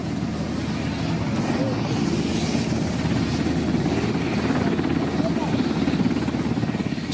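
A Colombian army helicopter carrying troops toward a raid on cocaine labs thrums with a steady, loud rotor beat and engine drone that stays constant and close throughout.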